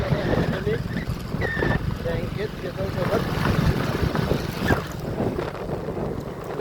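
A freshly repaired water pump motor runs with a steady, low mechanical drone while pumping water, and someone talks over the continuous hum throughout.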